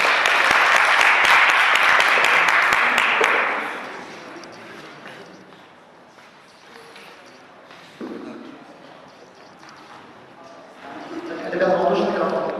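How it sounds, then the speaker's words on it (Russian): A hall audience applauds a team being welcomed onto the stage at a Russian-language contest, loud dense clapping that fades after a few seconds, followed by a host talking, with another swell of clapping near the end. "Аплодисменты ребятам."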